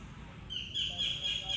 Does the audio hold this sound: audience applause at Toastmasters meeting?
no